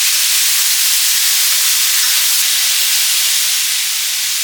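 Chopped yam stir-fry (Kerala chena upperi) sizzles steadily in a pan over a high flame, a dense, continuous hiss close by, with no voices.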